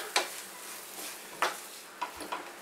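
Dal is stirred and roasted with spices in a pan, a spoon scraping through the thick mixture in three or four soft, separate strokes over a faint, steady background hiss.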